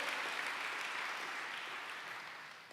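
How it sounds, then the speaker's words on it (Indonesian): A church congregation claps steadily during a sermon, a dense wash of applause that fades slightly toward the end. "Tepuk tangan buat dia saudaraku"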